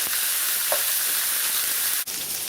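Onions and mushrooms sauté in a pan, giving a steady, close sizzle with a faint scrape of stirring partway through.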